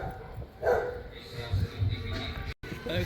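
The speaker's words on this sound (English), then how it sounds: "Dogs are going crazy." A few short dog barks and yips in the middle distance on a street in Carolina, Puerto Rico, mixed with people talking and outdoor background noise.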